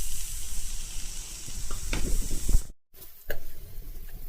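Chicken frying in a pan with black pepper sizzles loudly and steadily, with stirring scrapes, then briefly cuts out before the hissing resumes.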